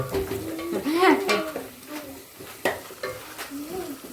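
A spoon scrapes and clinks as peanut bhajiya curry with tomato is stirred in a pan, with a soft sizzle beneath and a voice briefly heard over the irregular stirring.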